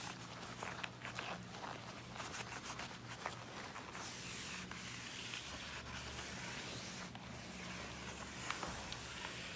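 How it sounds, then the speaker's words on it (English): A sponge and towel scrub dirt and grime from window tracks in repeated rubbing strokes, close and quiet, with some faint scuffing in between. "you might want to use your sponge and your towel to clean some of the dirt and grime out of your window tracks"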